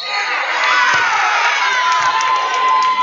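Crowd cheering and shouting at a girls' 130-pound Pennsylvania state wrestling final, a dense, loud, continuous roar with high-pitched yells and whoops rising throughout.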